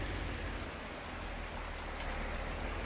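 Rain pours steadily on a Midwest farm field during seeding season, a dense, even hiss of drops striking surfaces with no voices.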